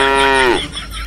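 A voice gives a comic cow imitation, one loud drawn-out moo that falls in pitch and then fades into background noise.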